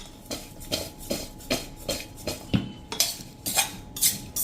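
A spoon scrapes and clinks against a bowl while mixing raw mango pieces with turmeric for pickle, in a steady, regular rhythm, about two strokes per second, close and distinct with no voices.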